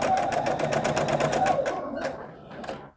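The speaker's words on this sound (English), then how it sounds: "test your tension and pull your bobbin thread up on a scrap piece of fabric before you actually start sewing on your quilt again" A sewing machine runs a test line of stitching on a scrap piece of quilting fabric, a fast, steady mechanical rattle that slows and stops with a few final clicks, close up.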